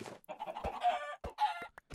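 Chickens clucking and squawking in a video game, a close, busy run of several overlapping clucks and raspy calls with short pauses between bursts and no talk.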